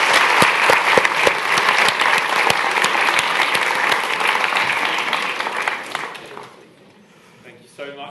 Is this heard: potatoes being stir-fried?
no